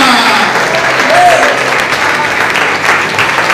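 Church congregation claps along during a Portuguese-language sermon, a loud continuous wash of applause mixed with voices throughout.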